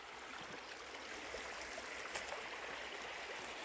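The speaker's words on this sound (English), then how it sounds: "Current's not bad at all. I mean, it's moving, but it ain't that bad." A creek's current flows on a mountain homestead, giving a steady, unbroken wash of rushing water with a few small splashes and trickles on top. It stays fairly soft and even throughout, with no voices.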